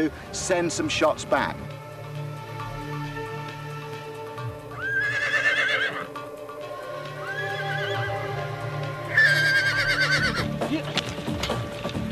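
A horse used in ancient Egyptian mounted archery whinnies twice, loud and near, with long, wavering high neighs over a steady background rumble and some hoof clatter at the start.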